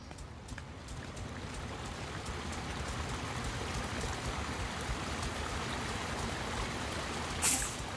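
A river flows in the video game The Lord of the Rings: Gollum as a continuous, rushing, rain-like wash of water, steady and fairly full with no speech over it.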